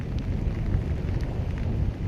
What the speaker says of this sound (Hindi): अभी बारिश भी हो रही है ऊपर से